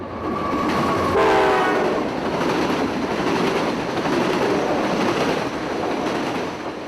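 A GE AC44 freight locomotive pulling eight empty tie gondolas roars past loudly on the Wildwood Subdivision at Waldo, Florida, with a steady rumble and rattling wheels, a short horn blast sounding early on.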